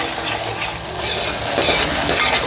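Ginger, garlic and green chili sauté in oil in a single pot of mutton curry, a loud, close crackling sizzle with a few clinks and scrapes from stirring, no voices.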